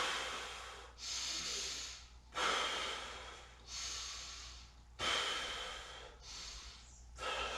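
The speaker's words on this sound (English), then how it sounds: "A couple deep breaths." Slow, deep breaths during a Kundalini yoga exercise for legs, hips and stomach, each inhale and exhale a long airy hiss, close and steady in a regular rhythm of about six breaths with no talking.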